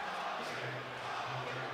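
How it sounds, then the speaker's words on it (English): A boxing arena crowd at an international badge-themed bout roars in a steady, dense wash of cheering and chatter, loud and continuous without breaks. "So you can hear the crowd right now getting amped up."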